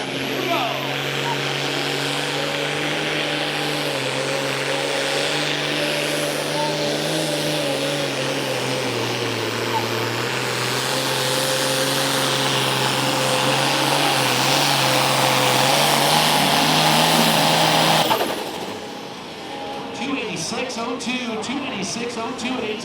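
A WD9 super stock pulling tractor with a naturally aspirated engine roars loudly and continuously down the track at a tractor pull in Sheffield, Illinois, its pitch shifting as it pulls, then cutting off abruptly near the end amid crowd noise.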